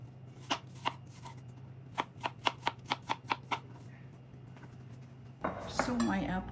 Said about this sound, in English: Gonna cut these into little cubes. And these are very soft apples.